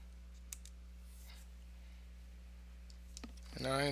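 A few faint, sparse button clicks from a calculator being keyed in during a statistics calculation, separated by quiet gaps, with a voice starting to speak at the very end.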